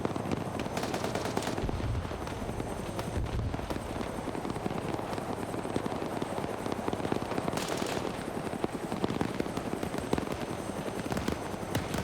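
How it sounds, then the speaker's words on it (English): Dense video game battle with rapid bursts of gunfire and a steady mechanical rotor-like clatter from a Huey helicopter, continuous and fairly busy throughout at moderate volume. "snipe that damn Huey out of the sky."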